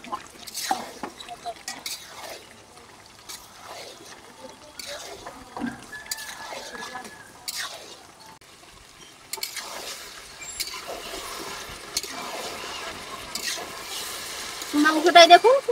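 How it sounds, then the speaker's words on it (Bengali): Patnai chicken meat stir-fried in a pan: intermittent scraping and clinking of a spatula against the pan, soft sizzling and wet stirring, close and fairly quiet, with sharper clatter near the end. "মাংসটাকে এখন ভালো করে কষিয়ে নেব"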